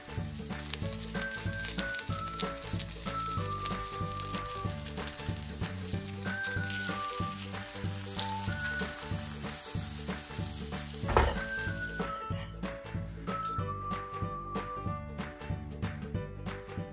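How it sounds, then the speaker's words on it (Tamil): Fish frying in oil over a low flame, a steady bright sizzle running unbroken throughout, with tuneful music playing over it. "ஸோ இப்போ அடுப்பை வந்து நல்லா குறைச்சிட்டு தான் இப்படி வந்து பொறிக்க கொள்ளணும்"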